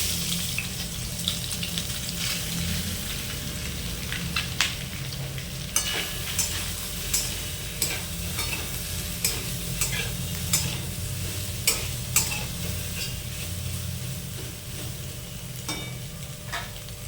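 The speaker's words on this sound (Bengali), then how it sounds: "সিদ্ধ করে নেওয়া সয়াবিন যে চিপে রেখে দিয়েছিলাম সেগুলো আমরা তেলের মধ্যে হালকা করে ভেজে নেব" Boiled, squeezed soybean chunks fry lightly in oil with a constant sizzle, while a spatula scrapes and knocks the pan in a regular stirring rhythm.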